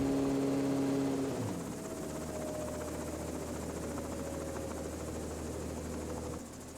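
A helicopter's engine and rotor run at a steady roar, the pitch shifting as the throttle brings rotor speed to 520 RPM, settling into a constant, close, droning whine.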